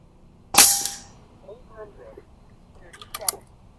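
A SnowPeak P35 air rifle fires an H&N hunting pellet with one sharp, loud crack, followed by faint handling noise and a few quick mechanical clicks.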